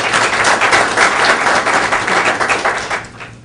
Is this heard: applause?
yes